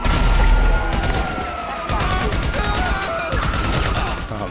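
Combat MG machine gun in GTA 5 firing loud, sustained bursts of rapid shots, with a brief lull in the middle before the fire resumes; no talk.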